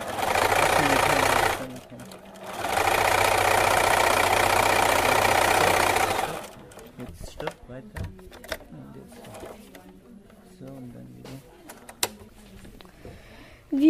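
Sewing machine running in two loud, steady whirring bursts of a few seconds each, then stopping, followed by quieter handling clicks and people talking nearby.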